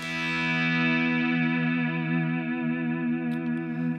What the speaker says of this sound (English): you got this natural swell to every note, but it also has a delay on there, so it just kind of rings out more